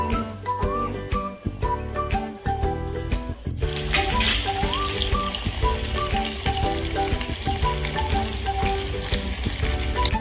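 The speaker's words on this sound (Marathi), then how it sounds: "हे बघा, आपण आता हे मस्त तळून घेतलेले आहे" Tomato pieces and paneer chilli ingredients frying in hot oil in a pan, a close, continuous crackling sizzle that swells louder partway through, with light clinks of utensils and no talk.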